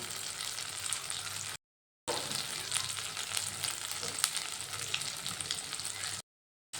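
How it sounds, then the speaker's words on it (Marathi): Spices such as turmeric and Kolhapuri masala are sautéed with ground masala paste in oil in a pan. The close, steady sizzle and stirring continues through the clip with two brief silent cuts and no voices. "आणि हे मसाले आपण आता परतून घेऊया"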